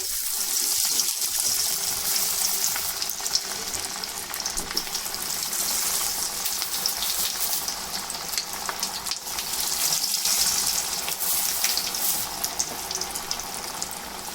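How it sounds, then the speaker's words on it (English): Spicy vegan kebabs shallow frying in a pan give off a continuous, dense sizzle and crackle that holds steady throughout, close and fairly loud, with no speech. "About to take them to the pan and shallow fry them."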